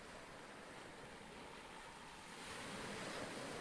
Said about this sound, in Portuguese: Só o barulho do mar.